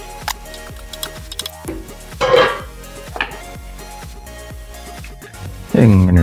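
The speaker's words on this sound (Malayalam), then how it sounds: "ഒന്ന് ഇളക്കുക." A spoon stirs Angamali mango curry with second coconut milk in a pot, making a steady series of light, close clinks and taps against the metal, with a louder scrape partway through and a brief voice near the end.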